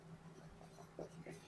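Pen writing notes during a biology lecture, a few faint brief scratchy strokes over a low hum, with soft speech.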